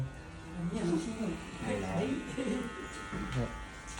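Electric clippers buzz steadily while shaving the side of a man's head, close and continuous, with voices talking over the hum throughout.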